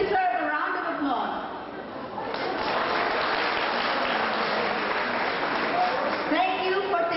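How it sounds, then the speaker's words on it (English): A spoken voice trails off into a swell of audience applause at a 25th-anniversary batch reunion, the clapping building and holding steady, with a voice returning near the end. "You deserve a round of applause."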